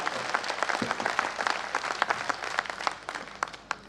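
Audience applause at a Hindi kavi sammelan poetry gathering in Beohari: a steady, moderately loud crowd clapping with scattered sharper claps, continuing throughout without speech.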